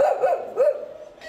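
Dogs bark at an emergency shelter's dog care area set up during flooding in Rio Grande do Sul, Brazil: three or four close, loud barks in quick succession, then fading whimpering noise.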